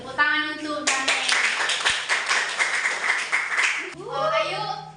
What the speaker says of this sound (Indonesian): Tepuk tangan untuk Daniel.